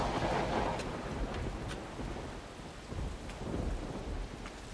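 Steady rain falls with low rumbling thunder rolling underneath in the game No One Lives Under the Lighthouse, a continuous stormy wash with occasional sharper drops.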